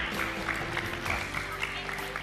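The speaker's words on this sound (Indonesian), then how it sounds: "Kasih tepuk tangan dong." Children clapping for a girl about to recite a poem at a Ramadan event, a dense steady wash of applause from a crowd, fairly even throughout with a broad hiss.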